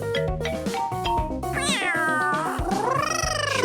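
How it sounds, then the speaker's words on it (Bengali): A cat meows loudly and close by, several drawn-out rising and falling cries in a row over a busy background, with no talking. "কেউ আওয়াজ করছে। একটা বিড়াল।"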